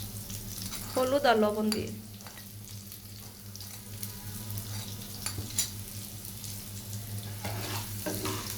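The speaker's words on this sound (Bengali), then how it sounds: "এখন এই তেলের মধ্যে আমি আলুগুলোকে ভেজে নেব।" Potatoes frying in hot oil with turmeric and salt give off a steady, low sizzle throughout, with someone speaking briefly near the start over the crackle.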